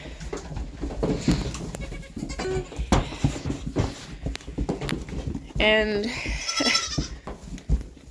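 Goats on a small farm bleat repeatedly, some calls loud and close and others fainter, mixed with shuffling and hoof noises while someone speaks over them.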